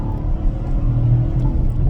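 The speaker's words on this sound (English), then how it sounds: "So let's try a downshift here for the first time." Toyota GR Corolla engine during a rev-matched downshift, a loud close low rumble with a brief rising blip in the middle, no talk.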